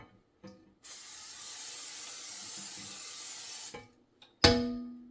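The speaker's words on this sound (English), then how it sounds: "let's go ahead and spray our pan. We're going to use a 9x5 baking dish and just lightly spray it" A long, steady hiss of cooking spray lightly coating a 9x5 baking dish, about three seconds, followed by a short second burst and a sharp clunk.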